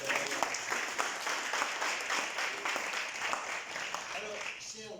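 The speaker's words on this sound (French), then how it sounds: "Applaudissements à monsieur l'ambassadeur." Applause for an ambassador at a literary café held at an embassy, a steady dense clapping from an indoor audience that fills the whole stretch and fades slightly toward the end.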